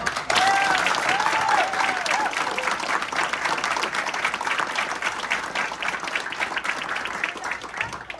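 Loud, dense applause from a large audience at a live show, sustained clapping with cheering and whoops mixed in, filling the whole stretch at steady volume.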